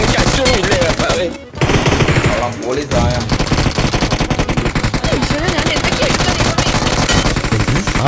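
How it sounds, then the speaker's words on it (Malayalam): Rapid automatic gunfire from the battle royale game BGMI rattles almost without pause, loud and close, with bursts crowding together over a steady backdrop of game sound and a short break near the start. "ആ വെടികൊണ്ട് എന്റെ നേർക്കല്ലേ വരുന്നത്."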